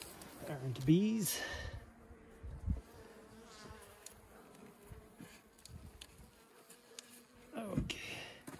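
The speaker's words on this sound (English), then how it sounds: "Bees." Honey bees buzz close by at a hive in late winter, several distinct droning passes rising and falling, with a person's breathy sounds and brief voice nearby.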